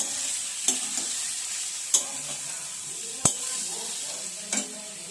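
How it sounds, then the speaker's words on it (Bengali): A handful of puffed rice is stirred in a frying pan, the spatula giving a few sharp knocks and scrapes against the pan over a soft background sizzle. No voices are heard. "মুড়িটা দেওয়ার পর একবার নেড়ে নেবো ভালো করে"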